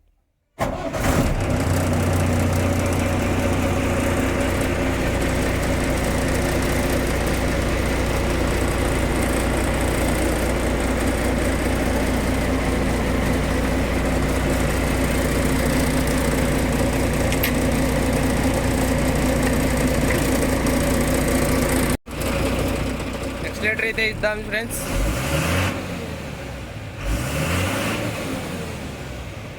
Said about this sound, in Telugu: ఇంజన్ అయితే స్టార్ట్ చేద్దాం ఫ్రెండ్స్ ఇంజన్ సౌండ్ ఎలా ఉందో కామెంట్ చేసి అయితే చెప్పండి